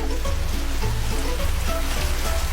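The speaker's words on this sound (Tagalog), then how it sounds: "Magkakaroon po tayo today ng light to moderate rain shower." A light-to-moderate rain shower effect plays in a comedy weather skit, a steady dense patter and hiss of falling drops with a low rumble beneath, continuous and fairly loud with no speech.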